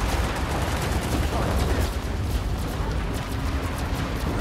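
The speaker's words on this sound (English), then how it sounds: "Oh shit, grenade, watch out." Dense continuous gunfire and explosion noise in the video game Planetside 2, a thick unbroken wall of rapid shots and blasts throughout with no distinct single grenade burst standing out.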